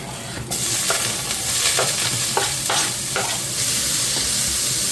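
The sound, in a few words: onions sizzling in olive oil in a pan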